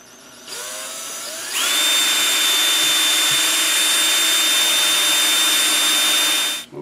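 A power drill spins up and bores into wood with a quarter inch brad point bit for a coffee scoop, a loud, steady high whine holding for about five seconds close by, then winding down abruptly.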